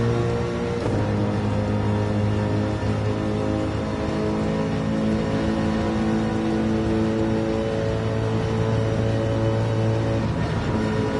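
Racing car in Gran Turismo 7 held at full throttle, a loud, steady engine roar with a sustained high-pitched whine running continuously without letup.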